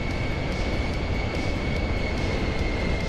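Pilatus PC-24 business jet engines in Microsoft Flight Simulator 2024 give a loud, steady broadband roar with a constant high whine, unchanging throughout and heard alone.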